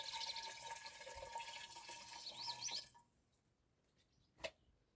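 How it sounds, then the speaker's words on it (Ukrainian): A liter of liquid is poured into a garden sprayer, a quiet gurgling splash of flowing liquid for about three seconds, then stopping, followed by a single faint knock. "Виливаю цей літр"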